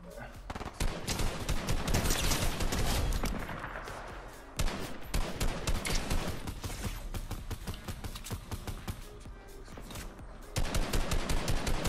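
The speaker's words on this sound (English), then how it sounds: "Ooh, I'm getting shot at from the right" Dense Fortnite gunfire during a battle, rapid automatic bursts and single cracks firing almost nonstop for the whole stretch, loud and close, with a brief lull partway through and a player talking over it at times.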